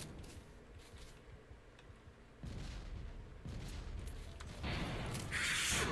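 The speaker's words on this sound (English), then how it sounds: "we slow down a lot whenever we shoot the rocket launcher" In the Factorio video game, rocket launcher shots and their explosions thump quietly and then grow louder, with faint booms building toward a bright burst at the end.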